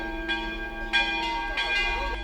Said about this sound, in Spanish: Están sonando las campanas porque están llamando a la ceremonia